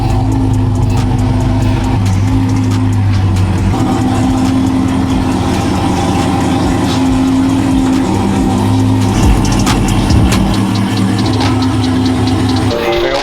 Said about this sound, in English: Gonna dyno the beauty,